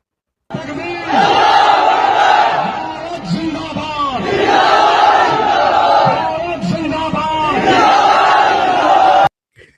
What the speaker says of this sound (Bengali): সেখানে মুসলিমরা সম্পৃক্ত হয়েছে নারায়ে তাকবীর স্লোগানের মাধ্যমে